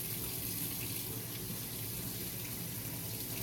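Water runs steadily from a tap while hair is rinsed, a continuous hissing splash that stays even and fairly close throughout with no talk.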